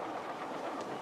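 A train running on its rails, a steady, dense rumble and rattle that holds even throughout at moderate loudness, with no voices over it.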